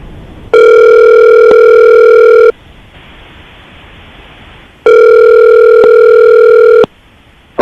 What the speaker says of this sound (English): we're about to call Timothy and see if we can get him on the phone